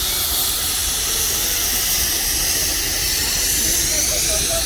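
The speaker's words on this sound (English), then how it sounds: "And here we have the big old steam engine." Steam hisses loudly and continuously from a big old steam engine at a steam fair, a broad airy rush with a low mechanical rumble beneath, heard close and without a break.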